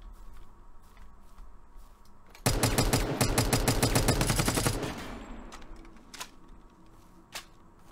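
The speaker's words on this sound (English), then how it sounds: "I think we've got to shoot through these" In the video game Dysterra, a long burst of rapid automatic gunfire erupts loudly after a quiet stretch, rattling steadily for about two seconds before fading into a softer tail, followed by a single later shot.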